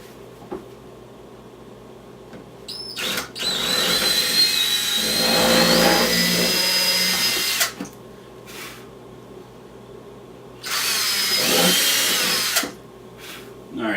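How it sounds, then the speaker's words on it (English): A power drill bores a pilot hole during a jockey box build, whining loudly in two bursts, a long run of about four seconds and a shorter one later, with quiet gaps and faint handling noise between. "I'm going to drill out a pilot hole"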